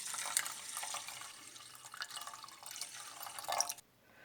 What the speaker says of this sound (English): pour a little bit of water to cover it